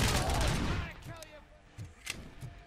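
A loud burst of gunfire opens the moment in the Robocop: Rogue City video game, then fades. A few sharper, smaller shots crack in quick succession near the end, with no voices over them.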